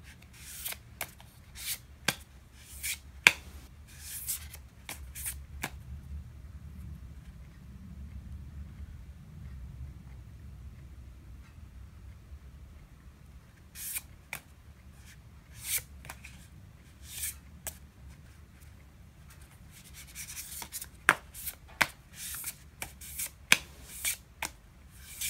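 Tarot cards are shuffled close by in a quiet room, soft riffling and sharp snapping clicks coming in irregular clusters with brief lulls between them, fairly faint overall.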